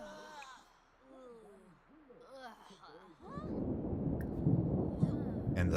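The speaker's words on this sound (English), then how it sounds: "And the thunder's going off." Thunder in The Sims 4 game rolls in as a deep, sustained rumble after someone speaks briefly, building and staying loud to the end.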